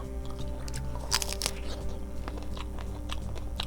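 Close, crisp bites and chewing of a large, fresh apple jujube, with crunchy snaps followed by wet, steady mastication and no talking.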